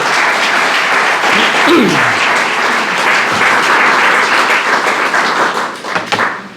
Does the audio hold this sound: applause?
yes